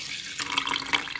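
Water pours into a pot of rice from about 0.4 seconds on, a steady hiss from a tap with a brief louder surge near the end, after a quiet start.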